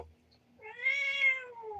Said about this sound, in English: Do you hear that cat?